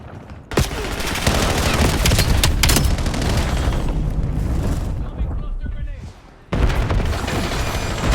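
A frag grenade is thrown and explodes in a Call of Duty Black Ops 7 beta match, heard within a loud, continuous barrage of gunfire and booms that briefly dips before another blast, with voices talking over it.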